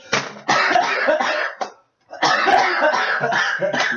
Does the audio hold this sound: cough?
yes